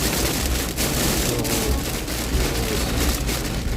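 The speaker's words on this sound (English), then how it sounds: "I think this is probably the heaviest rain we've seen so far." Heavy rain pours steadily outside in Japan, a dense, constant hiss of drops on surfaces with no pauses, and no voices.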